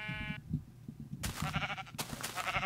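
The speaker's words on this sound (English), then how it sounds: "sheep everywhere." Sheep in Minecraft bleat repeatedly, several short wavering calls coming one after another, moderately close, over a low background rumble.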